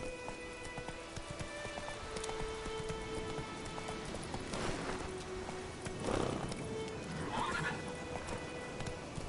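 Hoofbeats of a horse galloping steadily in The Witcher 3 video game, with a few whinnies and snorts rising over rain-like background ambience, no talking.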